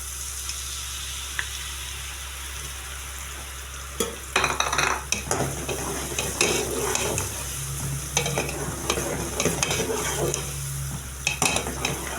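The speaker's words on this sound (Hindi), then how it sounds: "ऑयल हमारा गर्म हो चुका है। अब मैं ये लहसुन चॉप किया हुआ इसके अंदर ऐड करूँगी।" Chopped garlic frying in hot oil in a large daig pot, steady sizzling under a constant low hum, with bursts of stirring and scraping about a third of the way in, close and continuous, no voices.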